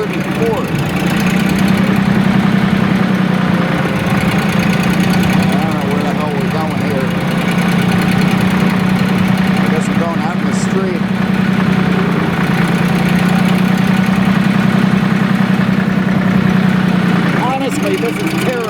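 Engine of a vintage Porsche tractor running steadily, a loud low chugging drone with a constant rhythmic beat and slight rattling vibration, heard close up throughout with occasional voices over it.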